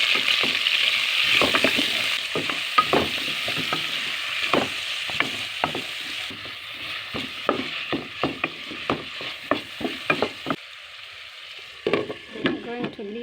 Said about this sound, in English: The onion is getting fried.